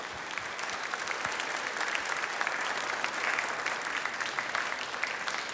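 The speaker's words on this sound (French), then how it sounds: "Come on, give the Lord a hand." A church congregation claps together in steady, continuous applause, moderately distant and evenly sustained with scattered sharper claps throughout.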